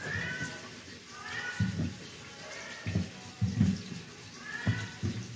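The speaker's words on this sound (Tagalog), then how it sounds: "Ingay ng aking pusa." A cat meows repeatedly, several short calls spaced apart, over running water and occasional clatter at a kitchen sink, close by.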